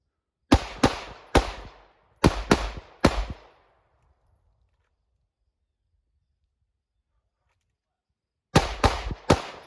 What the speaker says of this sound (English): You're presenting the firearm and you're shooting.